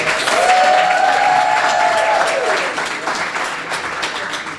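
Applause for entrepreneurs and judges at a pitch competition finale, a thick continuous wash of clapping from a crowd with a brief cheer or whistle near the start, gradually tapering off.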